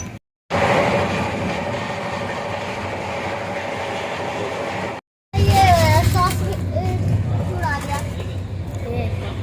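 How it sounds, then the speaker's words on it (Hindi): Busy platform ambience at Kanpur railway station in India, with a steady broad rumble of a train and crowd, a brief cut, then continued station noise with people and children talking nearby. "कानपुर स्टेशन"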